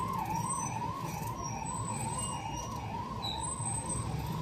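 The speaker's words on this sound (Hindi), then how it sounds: "अभी पुलिस की गाड़ी आई है" A police car siren wails steadily in a continuous, rising-and-falling tone over a dense background of nearby music and crowd noise from a neighbouring function.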